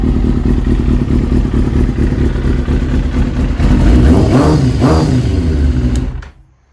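A 2001 Kawasaki Ninja ZX6R sport bike engine runs close and loud as it warms up from a cold start. It holds a steady idle, blips twice in quick revs near the end, then cuts off abruptly.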